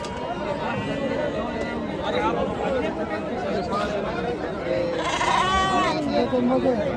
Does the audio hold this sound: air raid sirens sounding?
no